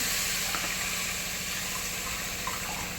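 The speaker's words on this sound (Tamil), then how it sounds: "ஸோ 1 லிட்டர் தண்ணி ஆட் பண்ணுறோம்" Water runs steadily into a cooking pot while a family pack of noodles waits to be made, a soft continuous splashing hiss, close and quiet, with no talking.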